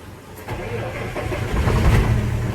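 A 2011 Hino FM 320P 6x4 tractor head truck engine cranks briefly and catches. It settles into a deep, rumbling diesel idle that builds slightly in loudness over a couple of seconds, heard close up.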